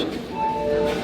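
The Kanchanjunga Express stands at Kishanganj station beside its general coaches, giving a brief, steady rumble with a thin high whine drawn out over it, close and fairly loud.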